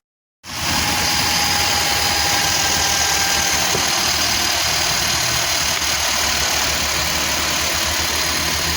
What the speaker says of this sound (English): let's start up the engine and let's hear it run.